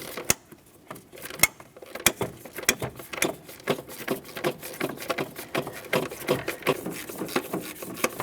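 A 12mm wrench ratchets and clicks in quick, uneven bursts as it loosens an intake mounting bolt on a 2011-2020 Toyota Sienna 3.5L V6, close up and in a dry shop setting.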